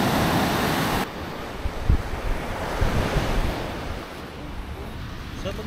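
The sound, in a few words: strong ocean waves breaking on the shore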